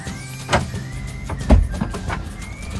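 A rental camper van locks with a couple of close mechanical clunks and a faint motor whir between them over a low background hum.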